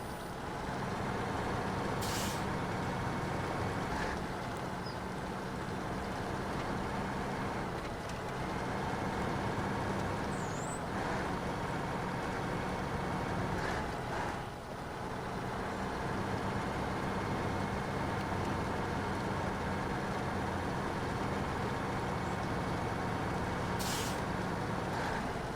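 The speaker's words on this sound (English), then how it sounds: "As much as I can gun it in this truck now." A heavy truck engine in SnowRunner drones loud and steady under hard throttle, with a broad rumble that holds throughout and a few brief hissing bursts along the way.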